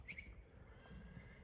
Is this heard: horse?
yes